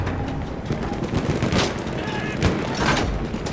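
Tank machine guns rattle in Battlefield 1 in several sharp bursts and single cracks over a constant rumble of battle, with a voice talking across part of it.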